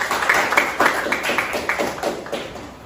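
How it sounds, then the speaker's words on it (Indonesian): Classroom applause for a student group, a small crowd of hands clapping in a quick, slightly uneven rhythm, close and moderately loud. "Tepuk tangan untuk kelompok 3."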